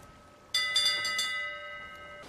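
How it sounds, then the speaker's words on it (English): A ship's bell in Sea of Thieves rings a few quick strokes, its bright metallic tone sustaining and slowly fading, with a second strike near the end. "I like ringing the bells."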